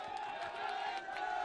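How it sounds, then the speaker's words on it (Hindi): A studio audience at a televised election debate in Kanpur cheers and applauds a guest, a continuous roar of raised voices and clapping, with a sustained tone running through it. "सुप्रिया श्रीनेत का तालियों के साथ स्वागत कीजिए।"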